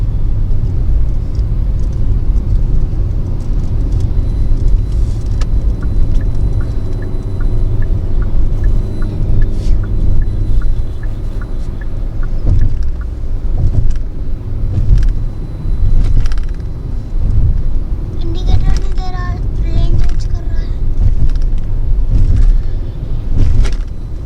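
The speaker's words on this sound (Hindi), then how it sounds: "सिटी का ट्रैफिक यही मिलेगा।" Dense city road traffic heard from inside a moving vehicle at night on the way out of Shimla, a steady loud engine and road rumble with passing cars and scattered horn-like tones, no talk.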